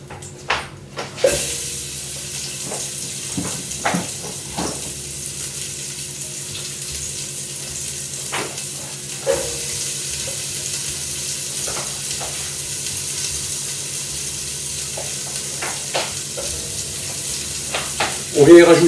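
Garlic and onion sizzle steadily in olive oil in a cast-iron pot, a continuous frying hiss with occasional stirring scrapes and clinks, close and moderately loud, with a louder burst near the end.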